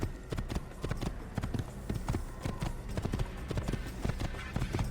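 Horse galloping in the game Assassin's Creed, rapid close hoofbeats in a steady driving rhythm, loud and continuous throughout.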